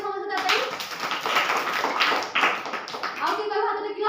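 Schoolchildren clap their hands together in a classroom during an English months-of-the-year song activity. The claps are loud, dense and steady for several seconds, and voices sound alongside them.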